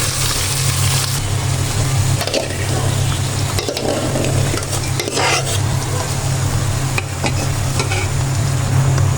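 Pulao rice, egg and fried ingredients being stirred together in a pan while cooking for a birthday meal: steady close scraping and sizzling with a constant hum underneath, throughout.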